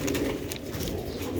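Ferozpuri pigeon cooing close by, a soft low throaty coo repeated over a brief moment amid light background noise.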